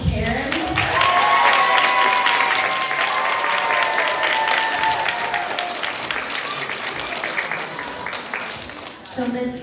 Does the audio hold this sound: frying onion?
no